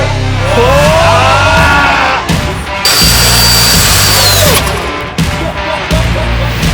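A turbo blower forces air into a burn barrel BBQ, producing a loud, continuous whining roar whose pitch rises and falls, with sharp breaks where the airflow surges.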